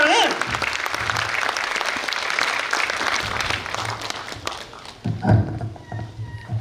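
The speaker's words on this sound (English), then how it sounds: "Can you please have a huge round of applause for him?" Applause from a large audience at a Toastmasters district meeting, a dense roar of clapping that fills the room, with voices and a few louder bursts mixed in as it tapers near the end.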